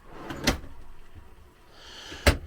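A kitchen drawer holding utensils opens and shuts in a caravan, two sharp knocks about two seconds apart, near and fairly loud, with faint rustling between them.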